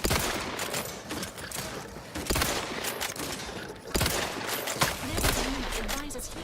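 Shotgun blasts in The Outer Worlds 2 video game, a few heavy booming shots spaced apart amid continuous dense combat noise, with a voice speaking over the action.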